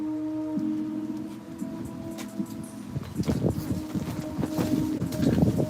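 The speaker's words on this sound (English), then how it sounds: "A little bit windy out here." Gusty wind buffets the microphone outdoors during pinstriping work, in low, rumbling bursts that grow rougher and louder toward the end, with a faint steady hum underneath.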